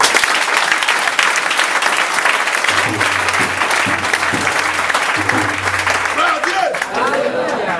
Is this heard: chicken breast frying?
no